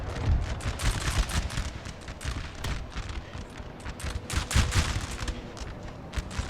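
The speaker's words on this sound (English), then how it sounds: "Cannon shots are punching through my lines." Cannon and musket fire from a Napoleon: Total War battle as Russia, heard as a dense, continuous crackle of overlapping volleys with heavier booming shots underneath.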